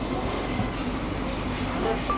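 Ride aboard an Algiers metro train, a steady rolling rumble and hum of the carriage with faint rhythmic track clatter and occasional high electrical whines, heard from inside the car without talking.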